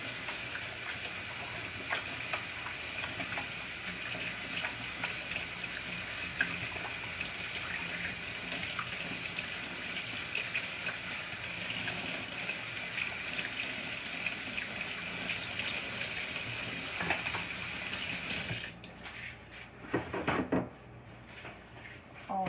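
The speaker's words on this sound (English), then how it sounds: "So the first thing we do is wash our hands." Water runs steadily from a kitchen tap while hands are washed before baking pretzel bites, a constant close splashing gush that cuts off near the end, followed by a few faint handling knocks.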